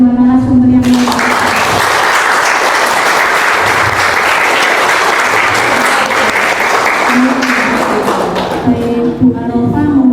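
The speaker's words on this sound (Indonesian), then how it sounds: "Aplaus untuk kedua narasumber" An audience at a talk show breaks into loud, sustained applause for two speakers, dense clapping lasting several seconds before fading as a voice returns.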